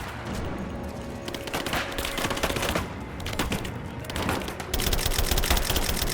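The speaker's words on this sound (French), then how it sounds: "Je tire dans la poutre." Dense, continuous gunfire crackles through a Rise of the Tomb Raider firefight, rapid overlapping shots filling the whole stretch with a louder burst near the end.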